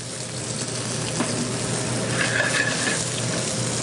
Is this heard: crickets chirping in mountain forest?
no